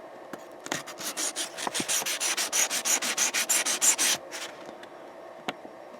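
Sandpaper rubs oxide off the contacts of an AKAI GX-270D tape deck, a quick series of about fifteen rhythmic scratchy strokes, close and clear, followed by a few faint taps.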